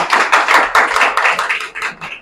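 An audience claps together in a quick, steady run of crisp slaps that rise and fall, close and fairly loud, with no talking over it.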